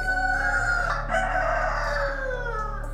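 A rooster on a poultry farm crows one long, loud call, with chickens clucking around it. A steady low hum runs underneath throughout.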